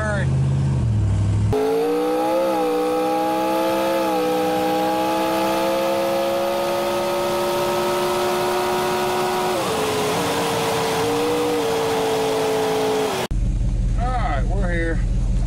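A car engine accelerates hard on the road, its steady roar climbing gradually in pitch over several seconds, loud and close throughout, with a brief break in sound near the start and end.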